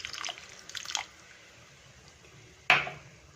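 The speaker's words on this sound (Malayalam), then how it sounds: "വാളംപുളി പിഴിഞ്ഞു വെച്ചിരുന്ന വെള്ളം" A short watery shuffle, then a quiet pause, followed by a sudden splash of tamarind water poured into a pot.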